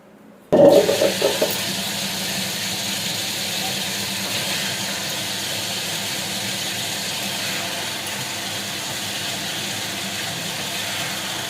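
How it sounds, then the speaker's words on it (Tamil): A wet grinder churns soaked rice and toor dal with milk for paal paniyaram, starting abruptly with a loud burst, then settling into a steady, even whirring rumble that runs on alone. "கொஞ்சம் கொஞ்சமாக பால் ஊற்றி ஊற்றி அரைக்கணும்"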